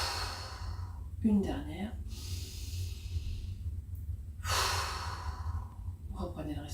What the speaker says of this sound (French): On va expirer par la bouche.